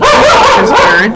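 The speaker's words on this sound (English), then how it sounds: "That was my dog barking there." A pet dog barks and yips close by in a short burst, mixed with a voice talking over it.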